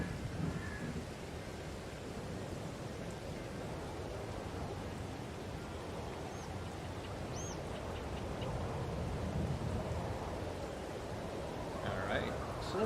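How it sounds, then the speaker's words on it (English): Steady rain hisses continuously over a low rumbling background on a farm, unbroken from start to finish, with a few faint sounds poking through. "It is still raining."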